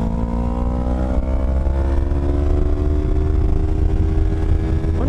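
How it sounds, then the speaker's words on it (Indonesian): An older Yamaha R25 motorcycle's exhaust revs loudly nearby, its note climbing steadily in pitch with a deep, throaty rumble underneath. "suaranya knalpotnya gila"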